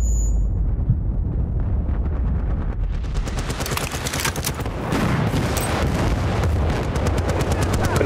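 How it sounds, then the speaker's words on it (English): Heavy gunfire and explosive blasts fill a battle scene in the video game Bad Company 2, including a rocket striking a tank. The dense, loud barrage of rapid shots swells after the first few seconds and rumbles on without talk. "I just hit the tank with a rocket."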